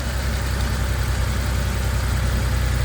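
A Porsche 911 3.2 Carrera idles after a new engine speed sensor, TDC sensor and coil were fitted, its engine a loud, close, steady rumbling putter with an even rhythm and no talking.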